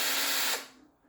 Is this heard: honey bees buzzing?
no